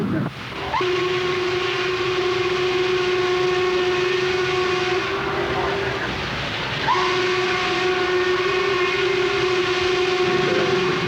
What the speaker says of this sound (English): Just to hear the sound of that whistle